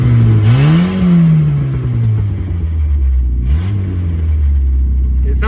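A car engine with a loose exhaust manifold, its two bolts undone, idles and revs with a rough, raspy, throaty exhaust note, loud and close, rising and falling twice.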